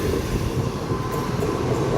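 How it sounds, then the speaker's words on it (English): A Great Western Railway passenger service bound for Cardiff Central passes through a station, a steady loud rumble of wheels and engine filling the whole stretch without a break. "Now passing through is the 1102 Great Western Railway service to Cardiff Central."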